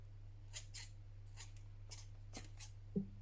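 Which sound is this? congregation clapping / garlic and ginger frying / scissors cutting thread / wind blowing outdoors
scissors cutting thread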